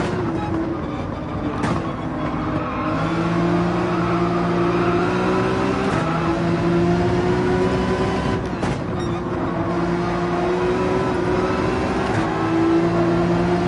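Porsche 911 engine in the Gran Turismo 7 racing game, a steady droning hum with rising and falling tonal pitch held loud throughout, punctuated by a few sharp clicks and brief bursts.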